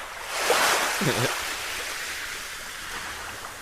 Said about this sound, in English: I gotta pee and you're playing water sounds?